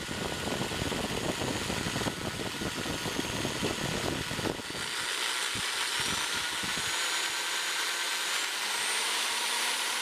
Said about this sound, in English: I used a few different size hex shank brushes in my drill.